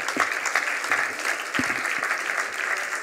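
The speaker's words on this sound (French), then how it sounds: "On peut applaudir Paul Ferré" Audience applause at an e-health trophy ceremony fills the space, with dense, bright clapping that holds steady from start to finish.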